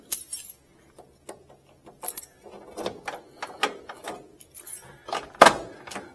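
Keys working the door lock of a 1967 Camaro RS SS, with sharp metallic clicks, clinks and jangles coming in scattered bursts close to the microphone, and a loud latch snap near the end.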